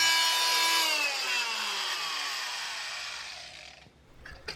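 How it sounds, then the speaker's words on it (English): Oscillating power multi-tool cutting a notch into a wooden Ikea cabinet around an outlet, a loud close high buzzing saw that whines down steadily in pitch over about four seconds before stopping, followed by a couple of faint clicks. "So I had to cut a notch on here around the outlet so that I could plug in the cat box"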